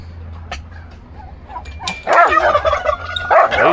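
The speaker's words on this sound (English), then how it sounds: "Got one broody turkey hen up here" A broody turkey hen on a homestead with other poultry calls in loud, rough bursts, starting faintly and swelling into strong gobbling clucks over the last two seconds, close by with no talking.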